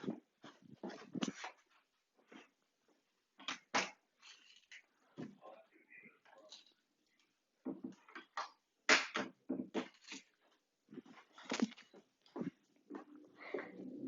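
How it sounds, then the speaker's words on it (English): A dog whimpers and stirs indoors at a bedroom door, quiet intermittent bursts of whines and faint bumps separated by silent gaps. "My dog wanted out of my room, so I had to let her out."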